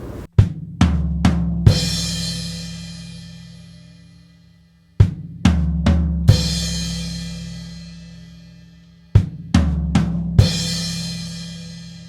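Deep floor tom hits in a repeating gospel drum fill pattern: a few quick strikes followed by booming hits that ring out and decay, cycling three times with no talking.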